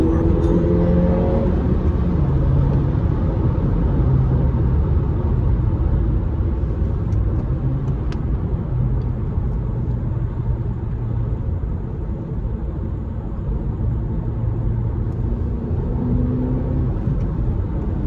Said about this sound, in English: In 3rd gear, we have even more acceleration because it's a smaller gear and it's turning at a higher rate of speed.